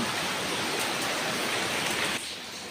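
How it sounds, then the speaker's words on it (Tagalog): Dense, heavy rainfall hisses steadily, then drops slightly in level near the end while still pouring. "lakas ng ulan."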